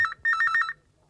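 A telephone rings in a stage play, giving two short bursts of electronic trilling tone, the second longer, close and clear with no talk over it.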